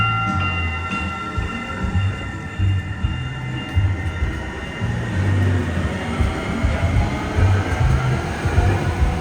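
Packed Sound Transit light rail train pulling out of a station for the 2 Line grand opening: a steady low rumble with rising motor whine and mechanical hum, continuous and moderately loud, no talk.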